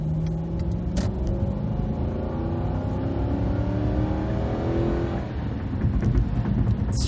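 A 2004 Lexus LS 430 accelerating under throttle from inside the cabin, its smooth engine note climbing steadily with rising harmonics over a continuous low road rumble, eased briefly near the end before pulling again.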